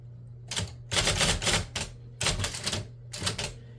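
A 1965 IBM Selectric electric typewriter clatters through bursts of rapid keystrokes, with short pauses between runs over a steady low motor hum, close and clear.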